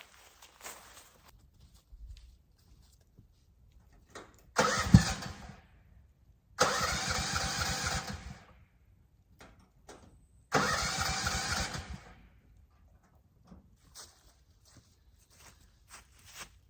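A small engine is cranked and choked while trying to start, giving three separate bursts of cranking about one to two seconds each with quiet pauses between, close and fairly loud, without catching.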